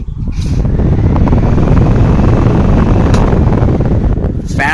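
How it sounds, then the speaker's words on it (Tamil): Usha table fan running at high speed, a steady loud broadband whoosh of blades and motor that holds constant and close throughout, with a couple of brief clicks near the start and end. "ஃபேன் அதி வேகத்தில் ஒரு சவுண்ட் உங்களுக்கு நல்லாவே கேட்டிருக்கோம்"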